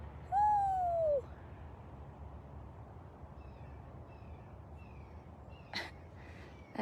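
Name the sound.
bird calling in reply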